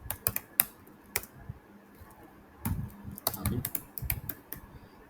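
Typing code on a computer keyboard while writing a priority queue solution: quick, irregular bursts of close, crisp key clicks with short pauses between runs, heard alone without speech.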